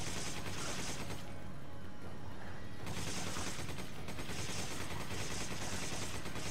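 Rapid, dense gunfire rattles loud and continuous from a shotgun fight in the video game Resident Evil 5, with a brief lull midway before the volleys resume, no voices.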